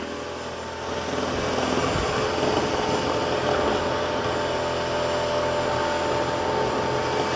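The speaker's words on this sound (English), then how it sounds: "Maybe the brush roller is sounding a little bit louder." A Dyson 360 Vis Nav robot vacuum runs with its brush roller spinning, a steady close whirring drone that swells up after the first second and holds level throughout.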